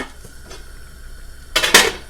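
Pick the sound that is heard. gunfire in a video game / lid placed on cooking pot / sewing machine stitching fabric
lid placed on cooking pot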